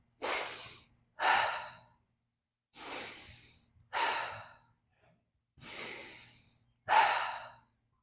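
Six quick, hissy breaths, sharp inhales through the nose alternating with exhales out the mouth, close and clear with short silences between each pair during a breathwork exercise.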